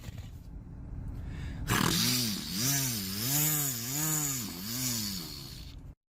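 A voice imitates a weed whacker, first a rough hiss, then a loud buzzing drone that rises and falls in repeated revving swells for about four seconds before cutting off abruptly.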